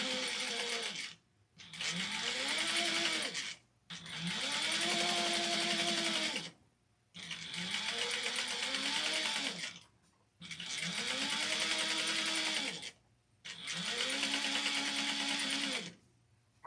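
A sewing machine stitches around the brim of a fabric witch hat in five steady bursts of rapid whirring, each a couple of seconds long, separated by short pauses, close and clear with no talking.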